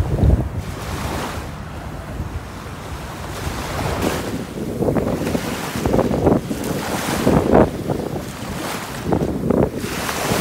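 Ocean waves wash onto a beach in steady surges, loud and close, under gusty wind buffeting the microphone. No voices are heard.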